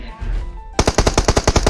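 Rapid automatic gunfire from a video game, about ten evenly spaced loud shots in quick succession following a short stretch of quieter game ambience.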